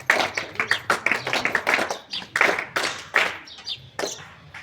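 An audience claps in welcome for a visiting professor at a program. Many hands strike in quick, uneven bursts that overlap into a dense, close patter and fade slightly near the end, with no talking.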